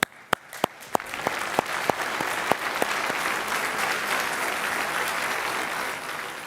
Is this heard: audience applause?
yes